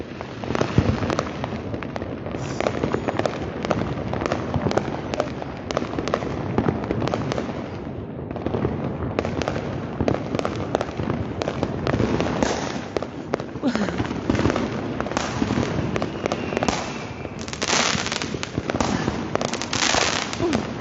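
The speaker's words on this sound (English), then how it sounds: "When he's out watching fireworks." New Year fireworks and firecrackers welcoming 2023 crackle and bang in a dense, continuous barrage of sharp pops and booms, some near and some distant, lasting throughout while a dog is walked outside.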